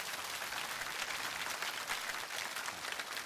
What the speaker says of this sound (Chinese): 掌声送给他